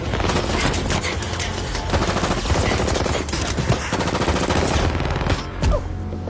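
Loud, sustained automatic gunfire with rapid bursts and overlapping shots, continuing almost without pause before a final sharp crack.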